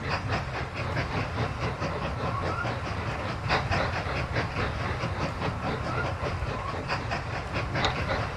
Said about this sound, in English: I'm just riding my train right now